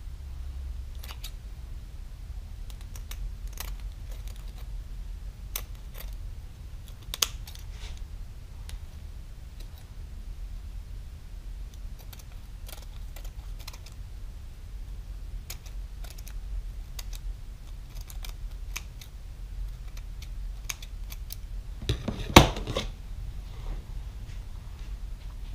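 Scissors snipping away excess foil tape while assembling a 1/64th scale silage trailer model, heard as scattered quiet clicks and short cuts spread through the stretch, with a brief louder cluster of snips near the end.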